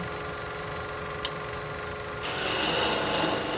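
A woodturning tool back-hollowing the inside of a wooden sphere on a lathe, a steady rasping scrape with a low motor hum that grows slightly louder toward the end, no speech.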